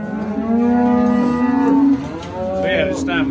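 A cow lets out a long, loud, close moo on a farm, followed by a second drawn-out bellow, with no talking over it.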